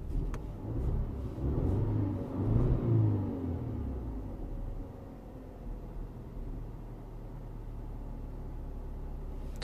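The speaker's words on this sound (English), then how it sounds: "When I rev the engine" An Audi A4 engine with a cylinder misfire, running in limp mode, revs up in a rough surging rumble that swells and then settles back into a low uneven idle, heard alone without speech.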